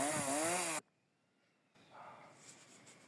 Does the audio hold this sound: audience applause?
no